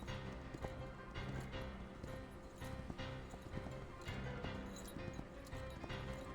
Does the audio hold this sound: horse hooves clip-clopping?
yes